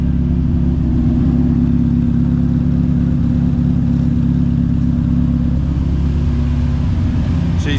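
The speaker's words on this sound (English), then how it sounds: "She's idling perfectly." A TVR Cerbera running on a Haltech ECU idles steadily, a deep, even engine rumble heard close up and loud for the whole stretch, with no talk over it.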